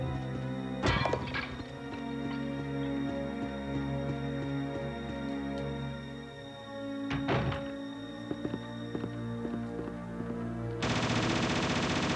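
Mac 10 machine gun bursts in the Resident Evil Seamless HD Project, two short rapid volleys standing out over a steady game-music bed, each lasting under a second.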